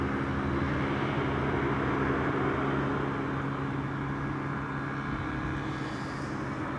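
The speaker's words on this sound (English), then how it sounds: "that's KLM flight 1818 returning from Frankfurt" A KLM airliner arriving from Frankfurt at Amsterdam Schiphol gives a steady, loud broadband engine roar with a low hum, constant throughout and with no talk.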